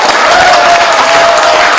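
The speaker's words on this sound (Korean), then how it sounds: "여러분 그분들을 위해서 박수 부탁드립니다." Loud, dense applause from a crowd at an indoor symposium, continuous and close throughout, with a faint tone hanging underneath.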